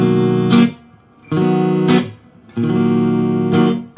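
An electric guitar run through a reverb effect plays three sustained chords, each struck and left ringing with a lingering wash before fading, loud and clear with no talking.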